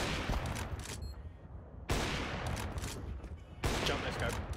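Sniper rifle gunfire in Counter-Strike 2, three loud, sharp shots spaced roughly two seconds apart, each followed by a decaying echo and a clatter of game sound in between.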